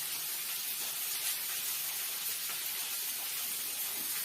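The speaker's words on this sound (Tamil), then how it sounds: "வெங்காயம் வதங்கட்டும்." Onions frying in a pan with salt for Bombay rava upma, giving a steady, soft sizzling hiss that holds evenly throughout at moderate loudness with no talk.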